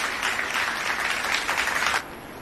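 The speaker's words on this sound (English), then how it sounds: "Cheer up for Ms. Shriya." Audience at a graduation ceremony applauding a medal recipient, steady loud clapping from a crowd that cuts off sharply near the end.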